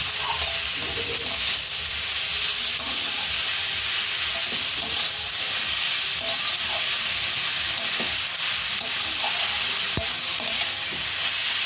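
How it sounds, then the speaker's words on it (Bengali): Radish paratha filling stirred in a hot pan, a steady close sizzle with scraping and stirring scrapes running throughout, no talk. "এবারে ভালো করে নাড়াচাড়া করতে হবে। এটা মিক্স করে নেব।"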